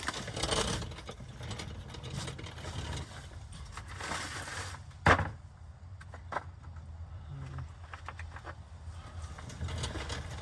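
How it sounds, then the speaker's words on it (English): A hand ratchet loosens bolts on a 2014 VW Passat 2.0 TDI, giving bursts of clicking mechanical ratcheting in a garage, with a sharp metallic clank partway through and no talk. "I think I'm just gonna pull these bolts."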